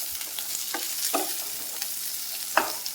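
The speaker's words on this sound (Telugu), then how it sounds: "ఇప్పుడు ఇవన్నీ యాడ్ చేసుకొని బాగా ఫ్రై చేసుకోవాలండి. ఉల్లిపాయ బాగా వేగనించాలి." Onions frying in a pan with other chopped ingredients for a beans curry, a steady soft sizzle underneath with a few sharp scraping stirs of a spatula.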